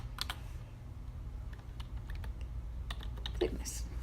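Light clicking of a computer keyboard during Revit LT modelling: a few scattered taps and short bursts of keystrokes, faint and close over a low background hum.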